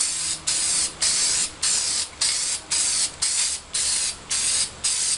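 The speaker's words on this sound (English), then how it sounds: "just went up and bought a cheap old can of black spray paint. And we'll spray it black" Black spray paint hissing from a cheap aerosol can onto a custom fabricated front Jeep bumper, in about ten steady bursts of roughly half a second each, separated by brief gaps, close and loud.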